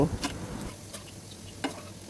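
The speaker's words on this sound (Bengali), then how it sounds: "একদিকে মোটামুটি ভাজা হয়েছে এবার উল্টো পিঠে ভেজে নেব" Continuous frying sizzle close by as beef kababs fry in soybean oil, with a few scraping clicks of a utensil turning them.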